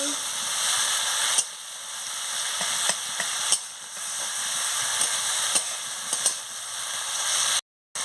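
Spice paste with coriander leaves frying in a pan, a continuous close sizzle broken by sharp scrapes and clacks as it is stirred, with a brief silent gap near the end.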